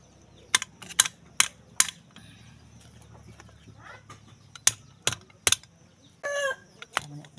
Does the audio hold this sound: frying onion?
no